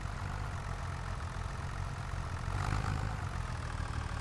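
Tractor engine idling in a logging video game, a steady low rumble running throughout with a slight swell in loudness partway through, no speech.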